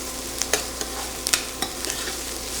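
Onions sizzle softly in a pan while a utensil stirs them. The frying hiss stays close and steady, with several light scraping clicks and no voices.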